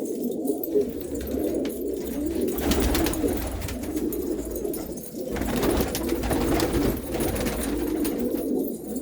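Pigeons coo steadily in a loft, a golden pigeon among the pairs, their low burbling calls layered and continuous at close range with no voices.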